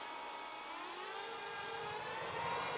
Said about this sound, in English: as we sound like an RC aircraft at the moment